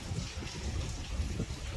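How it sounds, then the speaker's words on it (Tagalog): Steady rain patters and hisses on a surface, a dense, soft wash of drops at moderate distance with no voices. "Dahil maulan ngayon"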